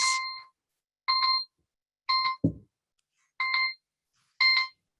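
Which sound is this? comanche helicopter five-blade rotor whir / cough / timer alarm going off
timer alarm going off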